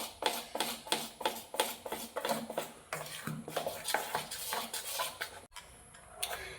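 Mango malpua batter mixed with milk in a bowl, heard as close, rhythmic scraping and clinking of a utensil against the bowl, steady strokes that slow near the end.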